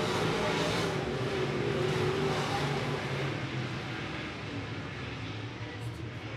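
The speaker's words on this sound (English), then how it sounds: "Top three cars break away." Late model race cars circle I-76 Speedway in a continuous engine roar that drones at a distance, swelling slightly and then easing off as the pack moves around the track.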